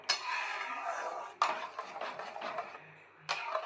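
A thickening mixture is stirred in a pot over a medium-low gas flame, with a spoon scraping and tapping the metal in short, irregular strokes, close and fairly quiet.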